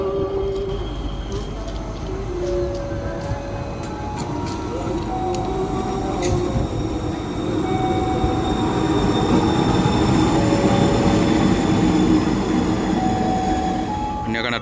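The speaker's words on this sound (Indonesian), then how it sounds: "Ini akan ada kereta api lagi dari arah Jakarta masuk di jalur 4" An Indonesian passenger train rumbles steadily into a station on track 4, a continuous loud mechanical roar with faint squeals and a brief horn-like tone, people talking in the background.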